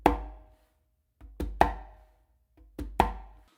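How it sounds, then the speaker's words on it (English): Hand strikes on a conga play a ghost note, bass and close slap pattern: sharp, close percussive hits in short pairs, each followed by a brief ringing decay, played alone with gaps between. "what I'm actually going to do is a ghost note with my dominant hand, then a bass with my non-dominant hand"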